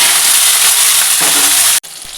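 Potato, pointed gourd and tomato pieces sizzle in hot oil tempered with cumin in a wok, a loud, dense hiss that runs steadily and then cuts off abruptly near the end.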